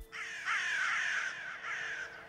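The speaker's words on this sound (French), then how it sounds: "les corbeaux trahissaient parfois la présence du goupil à ses poursuivants par ses cris" A crow gives harsh, raspy caws, two or three drawn-out calls in a row, loud and close with little background noise.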